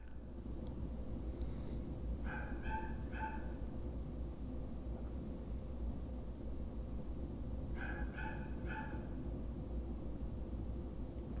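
A little dog barks in two short bursts of three yips each, a few seconds apart, fairly faint over a steady low background hum, no talking.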